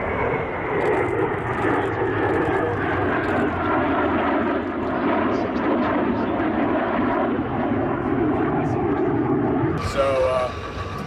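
A jet airplane, an Alpha Jet flying at the Oshkosh airshow, gives a steady, loud broadband engine roar that holds throughout, with a brief brighter tonal sweep near the end as it passes.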